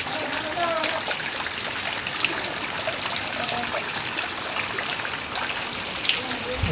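Rainwater runs and splashes outside at night after heavy rain, a continuous close wash of flowing, trickling water with faint voices in the background.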